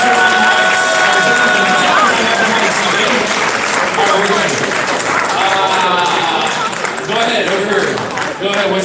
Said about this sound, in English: Give yourselves a round of applause real quick.